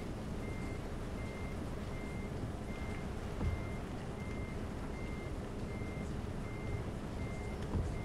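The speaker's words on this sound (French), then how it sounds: "Et un petit coup de marche arrière." Truck reversing beeps in the driving game Euro Truck Simulator 2, a steady evenly spaced series of electronic tones over a constant low engine rumble, with no talk.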